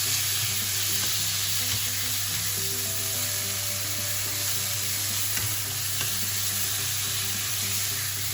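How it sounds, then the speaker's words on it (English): Thinly sliced beef sizzles and fries in hot garlic, a steady close crackle with occasional stirring clatter and no voices, for a Vietnamese stir-fry with green beans and tomatoes. "Then you put the thinly sliced beef in. Right into the garlic."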